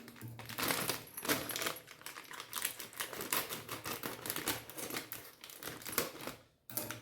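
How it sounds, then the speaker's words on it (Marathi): Puffed rice being sifted through a sieve makes a continuous dry rustling and crackling, with grains pattering and shaking in rapid bursts for several seconds at close range. "आता हे मुरमुरे मी चाळून घेणार आहे चाळणीने."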